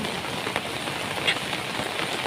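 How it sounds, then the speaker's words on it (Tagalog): Steady heavy rain hisses across a surface, a dense broadband wash with a few louder drops; no voices. "Malakas ang ulan."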